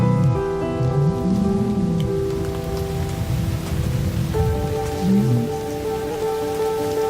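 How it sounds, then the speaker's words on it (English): A rainstorm breaks over the Botswana savanna. Heavy rain pours steadily and loudly throughout, with a dense, even hiss of drops striking the ground. "As the storm breaks"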